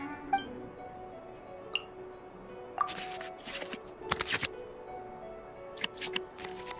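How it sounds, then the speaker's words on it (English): Digital card-shuffling effects from the Genshin Impact Genius Invokation TCG card game. A few light clicks come first, then bursts of crisp flicking swishes in quick clusters, close and clean with no talking. "we can select any number of cards in our hand to shuffle back into the draw pile"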